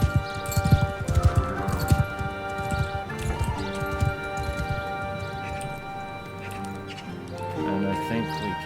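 Horse hooves clip-clopping in the video game Mount and Blade II Bannerlord, a steady trotting rhythm mixed with game music and ambient sound, with talk over parts of it.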